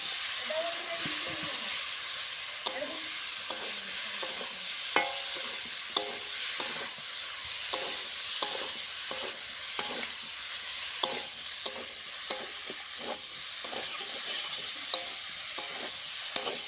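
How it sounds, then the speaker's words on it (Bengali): Fried vegetables are sautéed with spice paste in a pan, a soft continuous sizzle punctuated by regular sharp taps and scrapes of a spatula, with faint background sounds. "সবজির সঙ্গে হালকা করে কষিয়ে নেব"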